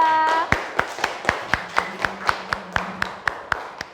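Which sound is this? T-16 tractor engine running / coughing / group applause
group applause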